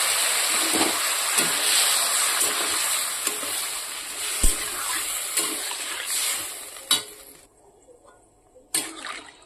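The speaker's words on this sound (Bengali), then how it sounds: "তো পরিমাণ মতো জল দিয়ে দিলাম।" Water rushes steadily into a pan of sautéed potatoes and drumsticks for a curry, a close, loud pour lasting about seven seconds before it stops, followed by a few sharp clinks.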